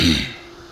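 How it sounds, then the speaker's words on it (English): A short, close throat clearing, a rough burst that fades out within a fraction of a second, with no talking. "excuse me for clearing my throat."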